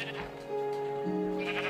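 A Minecraft sheep bleating, one drawn-out wavering bleat close up, with low game background sound behind it.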